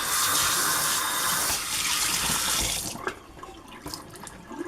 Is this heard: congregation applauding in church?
no